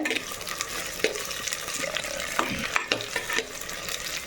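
Cut yam pieces are tossed in hot oil in a pan with half-cooked brinjal for a Pongal kuzhambu, giving a soft sizzle under scraping and clattering spoon strokes.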